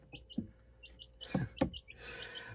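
Baby chicks in an instant brooder give a few short, faint chirps and peeps, close by, against a quiet background rustle.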